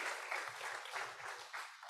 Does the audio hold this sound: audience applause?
yes